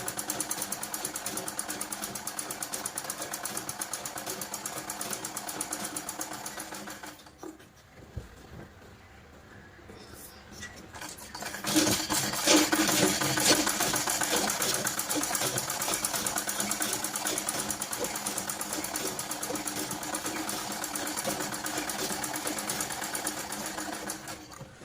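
A sewing machine stitches buckram for a simple blouse in a close, rapid, steady whir that pauses briefly midway and then resumes at a louder, continuous pace.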